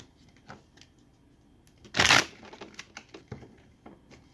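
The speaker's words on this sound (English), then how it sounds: "One more shuffle." A deck of tarot cards gets one quick shuffle, heard as a short, crisp riffling burst partway through. Faint handling rustles and taps come before and after it in a quiet room.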